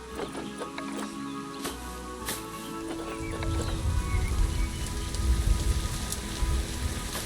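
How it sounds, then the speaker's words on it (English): Rain falls in the zoo-building video game Planet Zoo, in a South American rainy-season setting, with scattered drops at first that build into a heavier, steady downpour partway through. "And it starts raining again."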